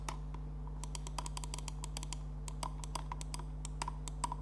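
Rapid, sharp clicks from the main buttons of a Pulsar X2 Mini mouse with Scale 8.0 switches, dozens of close tactile ticks in an irregular quick rhythm over a steady low electrical hum.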